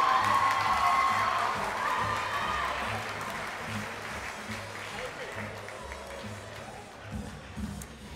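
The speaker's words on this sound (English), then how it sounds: "Ladies and gentlemen, your applause please for Sophie and Will." Guests at a school debutante ball applaud a presented couple, a soft, continuous wash of clapping from a large room that slowly thins out, with murmured voices mixed in.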